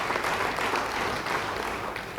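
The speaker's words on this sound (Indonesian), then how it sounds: "Yang percaya, beri tepuk tangan bagi dia." A church congregation claps together in a dense, sustained round of applause that fills the room evenly from start to finish, with no talking over it.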